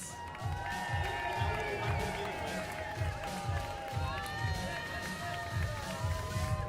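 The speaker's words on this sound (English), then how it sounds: "give a huge round of applause" A large audience at an esports grand final, the America's Cup E-Series, applauds and cheers for the eight finalists, steady crowd noise over rhythmic pounding music with a loud announcer-style voice on top.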